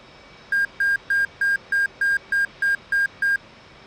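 A clean electronic beep sounds in a DCS F/A-18C Hornet cockpit during a cold start, repeating ten times in an even, quick rhythm, each tone short and clear over a faint steady hum.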